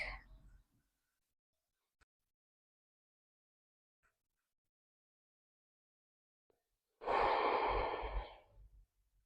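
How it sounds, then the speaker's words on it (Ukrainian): Kundalini yoga breathing practice: a quiet stretch with faint clicks, then one long, loud exhale of breath lasting about two seconds, close to the microphone, with a short breath sound at the start. "Ми робимо 8 підвдихів і один довгий видих."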